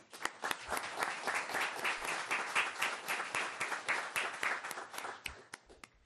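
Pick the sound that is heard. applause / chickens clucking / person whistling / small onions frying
applause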